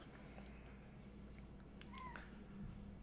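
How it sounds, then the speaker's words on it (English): A cat meows faintly in the background, two or three short, thin cries rising over a steady low hum in a quiet room. "You might hear a cat or two in the background."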